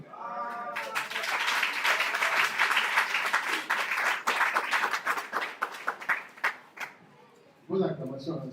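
A church congregation at a farewell service for their pastor claps loudly and steadily, then the applause thins into scattered claps before a voice speaks near the end.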